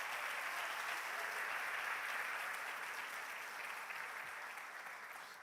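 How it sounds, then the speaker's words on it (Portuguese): A church congregation applauds at a revival service, a dense, steady wash of clapping that fills the room throughout and slowly tapers toward the end, with no voices standing out. "Pode aplaudir ao Senhor."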